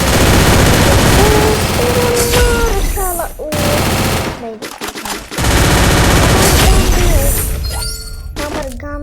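Rapid bursts of loud gunfire from a video game, with automatic fire and sharp crashes running nearly continuously, briefly breaking off before resuming, while a voice talks over it.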